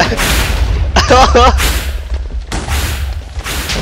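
Loud explosive booms from bombs in the Minecraft map Herobrine's Return, close and heavy, recurring through the stretch with voices talking over and between the blasts.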